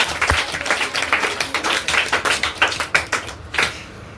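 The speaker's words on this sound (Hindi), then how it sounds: "एक बार जोरदार तालियां हो जाए, तालियां तालियां।" Audience at a Class 10th success celebration and topper awards applauds during a medal presentation, a dense burst of many hands clapping at close range, steady and lively for several seconds with rhythmic peaks.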